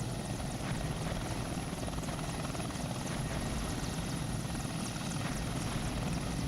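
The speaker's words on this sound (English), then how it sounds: "let's bring in this one helicopter here" A helicopter flies in the Steel Beasts Pro PE combat simulator, its rotor throbbing in a loud, steady, continuous drone with no voices over it.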